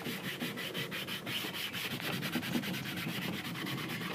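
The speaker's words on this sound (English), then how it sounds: "And just really rub hard to get it in to the wood." A cloth rubbing hard over a wooden furniture surface, working gray paint into the grain for a Swedish finish, a steady close scrubbing rasp in quick back-and-forth strokes.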